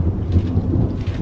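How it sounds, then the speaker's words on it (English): Deep rumbling thunder rolls continuously, loud and near, with rain in the background at a plant market stall in New Zealand and no talking during it. "That's thunder!"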